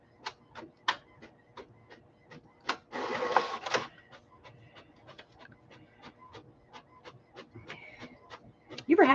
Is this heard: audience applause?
no